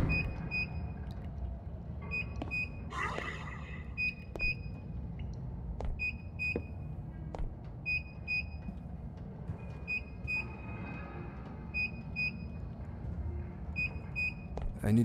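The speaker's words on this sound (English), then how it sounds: "Check the source of beeping." Repeated short electronic beeps in the game Mirror Forge, sounding in a steady intermittent rhythm over a constant low rumbling background, with occasional thuds and scrapes.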